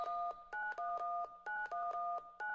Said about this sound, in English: Grab that phone and dial 911